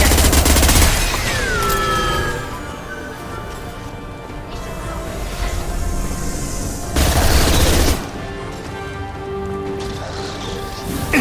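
Sustained gunfire in the sci-fi video game Mass Effect 2, dense rapid bursts and crackling volleys running nearly throughout, loud and close, with heavier booms at a couple of points.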